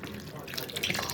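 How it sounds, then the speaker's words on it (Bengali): Water is poured into a simmering fish curry of tangra fish with aubergine, potato and green banana, a brief close splashing gush in a home kitchen. "এবার আমি দিয়ে দিলাম জল।"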